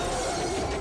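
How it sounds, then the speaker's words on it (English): Car windshield glass smashing in a staged crash scene for a 2003 action film, struck by a log; a dense, sustained crunching shatter of brief duration with no voices. "the glass would smash"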